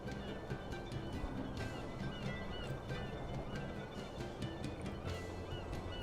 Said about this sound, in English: it's like seagull noise only in your left ear